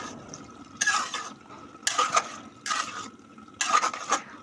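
A spoon scrapes and stirs dried fish labra in a metal pan while coriander leaves are added, in four distinct bursts of close, clattering strokes with quiet gaps between them.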